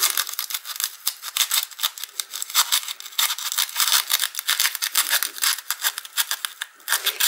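Scissors or a blade cut out a craft lotus flower, a close, rapid run of short rasping snips and scrapes in an uneven rhythm, no voices.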